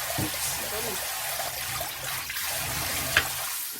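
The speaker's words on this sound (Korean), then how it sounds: "이렇게 물기를 빼줘야 돼요" Washed glutinous rice drains with a soft, steady trickle of water close by, a continuous wet rush with a brief clink near the end.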